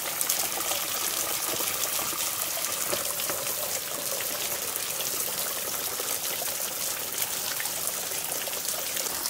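Water from a waterfall stream gushes and splashes steadily as a jerrycan is filled at a forest campsite, a continuous close hiss of pouring and splashing with no voices.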